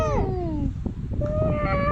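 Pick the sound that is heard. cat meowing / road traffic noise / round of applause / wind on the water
cat meowing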